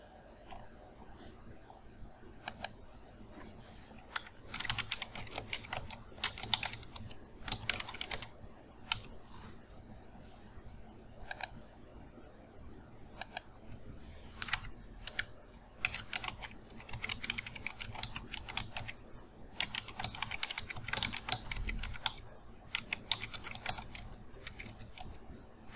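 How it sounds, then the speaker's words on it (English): Keys on a computer keyboard clatter in irregular bursts of typing into a document, quiet and close, with short pauses between runs and no talking. "right away we can just start typing in our document"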